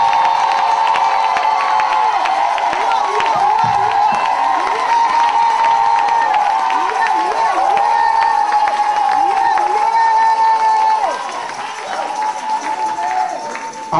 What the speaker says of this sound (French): nous acclamons encore très fort le Seigneur